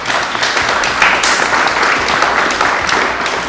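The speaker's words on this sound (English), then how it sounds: "Round of applause, please" Sustained audience applause fills the room for a few seconds at a business talk, dense steady clapping at even loudness with no one speaking over it.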